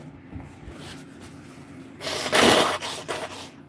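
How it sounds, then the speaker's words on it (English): A person blowing their nose close to the microphone, a loud, breathy burst of about a second after quieter breathing and a faint snort. "I gotta blow my nose."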